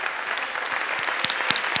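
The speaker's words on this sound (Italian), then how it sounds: "dai, un bel applauso preso come si deve" Warm audience applause for performers at an international festival of differing abilities, dense continuous clapping from a crowd with a few sharper individual claps standing out near the front.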